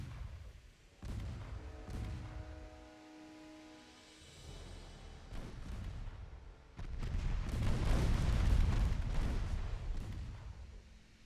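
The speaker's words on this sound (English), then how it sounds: "We're out of high explosive rounds. We'll be shooting AP now." Heavy naval guns firing armor-piercing shells in a Ultimate Admiral Dreadnoughts sea battle, a run of deep booming blasts that swell into a sustained loud rumble of repeated cannon fire.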